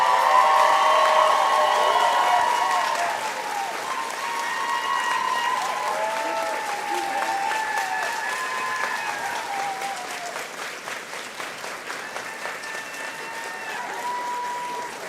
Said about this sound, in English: Wonderful round of applause.